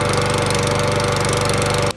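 A lawn mower engine runs steadily at close range, a loud buzzing drone with rapid pulsing, cutting off abruptly at the end.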